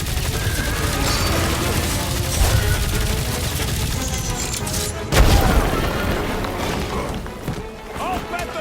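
Exploding monsters in the Marvel's Guardians of the Galaxy video game: a dense barrage of booms and bursts amid combat noise, with a sharp loud blast midway, while characters talk over the action.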